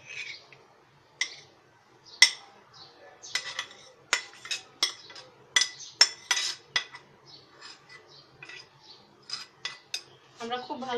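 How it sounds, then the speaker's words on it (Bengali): Boiled chana dal being stirred into milk in a metal pot for a sweet halwa, with repeated sharp clinks of a spoon against the pot in an irregular rhythm, close and fairly clear, and no talking. "আমরা খুব ভালো করে নেড়ে নিব।"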